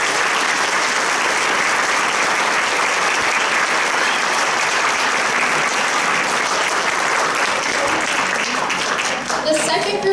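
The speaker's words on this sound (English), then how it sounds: "Let's give these students a round of applause." Loud, sustained audience applause for students at a middle school choir concert, a thick continuous roar of clapping that fades slightly near the end, with a few voices underneath.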